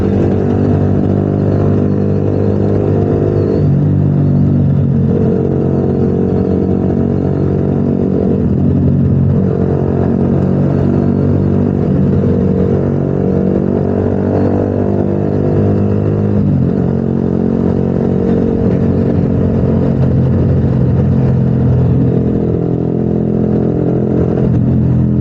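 A modified Bajaj Pulsar 220 motorcycle engine races hard and loud throughout, its steady mid-pitched drone rising and falling with repeated revving surges and a mechanical clatter, with no voices.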